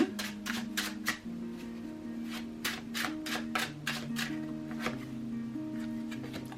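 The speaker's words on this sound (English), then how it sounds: "Let me shuffle and put a couple of more cards" Tarot cards being shuffled, with soft repeated riffling snaps in a steady rhythm, quiet and close, over a low sustained musical backing.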